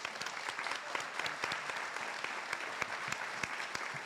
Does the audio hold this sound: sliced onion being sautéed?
no